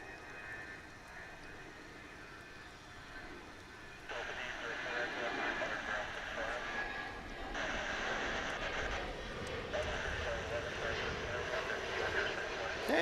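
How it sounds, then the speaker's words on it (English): An American Airlines Boeing 737 jet at Dallas/Fort Worth International Airport gives a steady, broad engine roar that swells in stages, heard from a distance beneath ongoing background noise, with people talking nearby. "an American Airlines plane for Mexico City. It's a 737"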